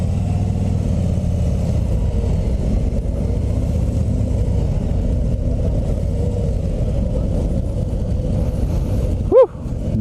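Harley-Davidson CVO Road Glide 117 touring motorcycle, 2019 FLTRXSE, idling with a loud, steady, low throb. Near the end comes a short, sharp rev that rises and falls quickly.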